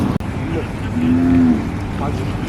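Sindhi cattle at a busy livestock market in Kannapuram, with one close, loud, drawn-out moo rising over a background of crowd noise and engine rumble.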